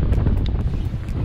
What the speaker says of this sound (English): And windy day.